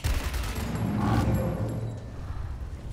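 Gunfire in the video game Gears Tactics, a short volley of shots aimed at a tank, booming with a low rumble and then fading under steady game background noise.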